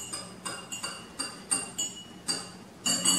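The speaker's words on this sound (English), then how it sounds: "Now I like to just give it a stir." A spoon clinks repeatedly against the sides of a coffee cup while milk is stirred in, about eight bright, rhythmic taps close by with no talking.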